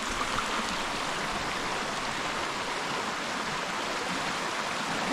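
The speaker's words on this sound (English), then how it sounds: "here's Little Repulse Creek." Little Repulse Creek in Conway National Park, flowing water producing a steady broadband rush, constant and fairly close with no voices.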